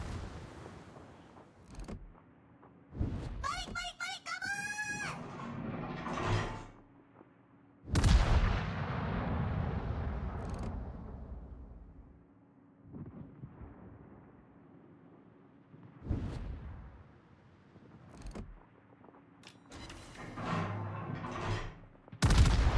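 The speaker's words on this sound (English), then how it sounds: "Destroyer blown up." In the World of Warships game, a destroyer is blown up amid naval combat, heavy booming blasts and gunfire bursts coming at irregular intervals, with rumbling decay between the explosions.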